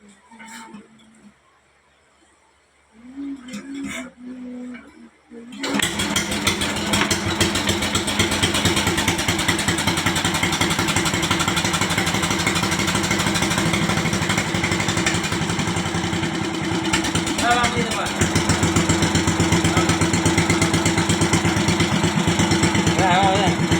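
A motorcycle engine rumbles to life after a few seconds of quieter sounds and keeps idling steadily and loudly up close, with a voice faintly under it.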